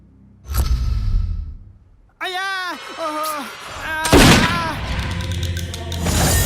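Gunshots in a Nepali drama scene: a loud blast and booming impacts punctuate the action, with a dramatic whooshing sound effect, and voices also heard between the shots.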